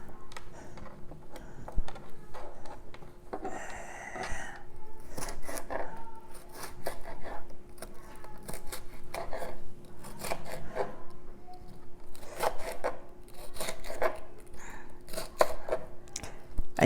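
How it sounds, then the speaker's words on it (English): A knife slicing a red pepper on a cutting board, first lengthwise and then across, producing a close series of irregular crisp cuts and taps with brief pauses between strokes. "I just make lengthwise cuts and then I cut it across"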